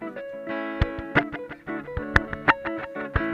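A looped electric instrument phrase plays with the reverb turned off, giving dry, distorted, percussive plucks and stabs that stop abruptly instead of ringing out. It sounds close and fairly loud, in an uneven rhythm.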